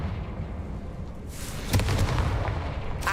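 A Confringo fire blast spell explodes in Hogwarts Legacy, a sharp burst followed by a deep rumbling boom that lingers, with a faint crackle at the end.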